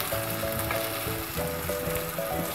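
Chicken korma stirred as it fries in a pan: a loud, dense sizzle holding steady across the short stretch, with faint scraping of the spoon mixed in, close up and with no talking.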